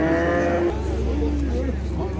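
A cow lows once, drawn out and fairly loud, at a livestock market, with murmured voices and crowd noise continuing underneath and after the moo.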